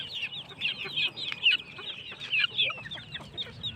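Several chickens, adult hens near chicks, cluck and chatter continuously, their short overlapping calls close by over a low background murmur.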